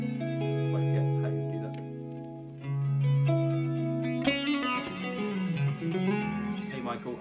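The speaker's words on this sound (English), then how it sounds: "Reverb into pitch shift and then feed that back into verb." Electric guitar run through a Line 6 HX Stomp with reverb feeding a pitch shifter and back into the reverb, sustained chords swelling into shimmering washy tails that shift and pile up, played alone without talk.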